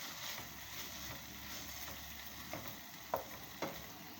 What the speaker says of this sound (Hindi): इसे मिक्स करते हैं।